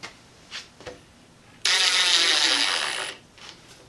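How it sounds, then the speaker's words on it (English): A Ryobi impact driver drives a large fastener, giving a loud rattling burst of about one and a half seconds up close, with a few faint clicks before and after. "I'm going to stick with the impacts to drive this in"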